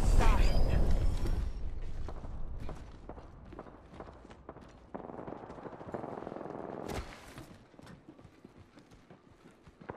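Gunfire in the Apex Legends shooter, including the Devotion weapon, mixed with footsteps and scattered impacts over several seconds; a dense volley up front fades into sparser shots and movement, fairly loud at first then quieter.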